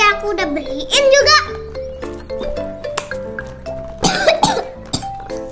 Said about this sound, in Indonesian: Tuh kan bang merah batuk.